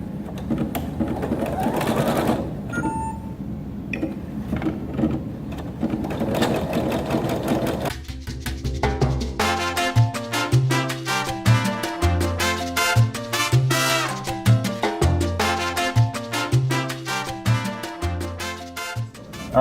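A Husqvarna Viking Creative Sensation Pro embroidery machine starts up and runs a basting pass around a design, its rapid, regular stitching clatter loud and close after a few seconds of preparatory clicks and handling noise.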